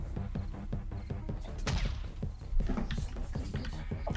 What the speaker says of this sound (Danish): Ja, der er nogen skud her til dig.